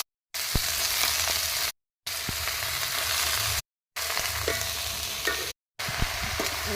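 Chopped Malabar spinach frying with ginger, garlic and spices in a pan, a dense close sizzle stirred continuously, broken by several short silent cuts. No voices.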